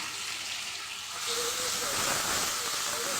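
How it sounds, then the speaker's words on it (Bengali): Garlic paste hitting a hot pan, apparently alongside fish and salted ingredients already frying, sets off a steady broadband sizzle and hiss that swells noticeably after the first second and holds loud and continuous. "রসুন বাটা দিলাম।"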